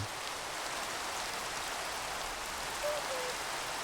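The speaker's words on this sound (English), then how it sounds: "And it's fucking raining again." Rain falls in a Minecraft world, an unbroken soft hiss of drops at a constant level, with a faint short tone near the end.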